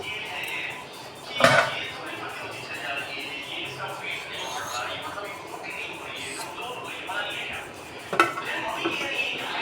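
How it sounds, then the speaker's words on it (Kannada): A pressure cooker of pongal has its lid fitted and shut, with two sharp metallic clanks several seconds apart over softer kitchen rattles, while a voice talks in the background. "ನಾನಿವಾಗ ಕುಕ್ಕರ್ದು ಲಿಟ್ಟು ಕ್ಲೋಸ್ ಮಾಡ್ತಾಯಿದ್ದೀನಿ."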